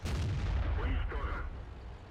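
Tank cannon fire in World of Tanks from a KV-5 heavy tank, a dense booming blast with a rumbling low-end tail that fills the whole stretch, loud and close, with no voice over it.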